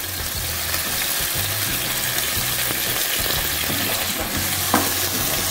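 Tomato, onions and garlic fry in a pan with a little oil, giving a loud, even, continuous sizzle with faint stirring movement underneath and a single small knock near the end.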